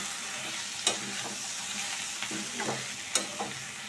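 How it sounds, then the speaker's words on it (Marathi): Masala stir-fried in a pan over a lowered flame, a soft sizzle broken by several sharp scraping strokes of a spoon, close and clear with no talk. "मसाला आपण छान परतून घेऊया."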